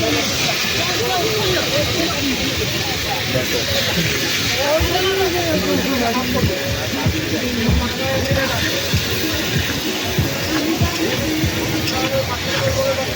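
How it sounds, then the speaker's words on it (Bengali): Crabs cooking at a busy seaside food stall in Digha, hissing and steaming continuously at close range under a steady crowd hubbub with people talking throughout. "এখানে কাঁকড়া রান্না চলছে"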